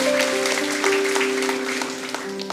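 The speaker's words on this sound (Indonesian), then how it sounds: "Tepuk tangan bagi Tuhan." A church congregation claps together during a GMS Church worship service, with steady, dense applause lasting a few seconds over sustained musical tones.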